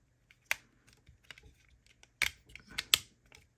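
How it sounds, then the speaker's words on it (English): Arms of a Hasbro Transformers Age of the Primes Superion combiner action figure fold inward and snap into place, giving a few sharp plastic clicks in quick succession amid faint handling noise. "fold the arms inward like this till you hear them click in"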